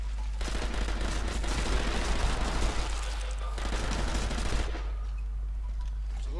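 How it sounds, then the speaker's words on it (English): Machine gun fire in Sniper Elite: Nazi Zombie Army rattles in a sustained, loud automatic stream for several seconds before tapering off at the end. "Machine gun."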